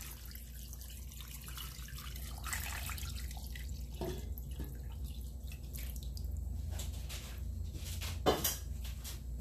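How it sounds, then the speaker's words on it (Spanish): Water splashes and trickles steadily into a large cooking pot holding soaked chickpeas and beef for a soup, a continuous close pour with a few louder splashes near the end, no voices. "Añadimos agua."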